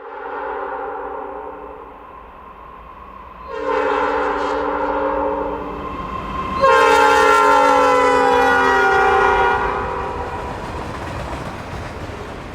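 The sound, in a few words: GE Dash 9-40C locomotives hauling freight train 36Q downhill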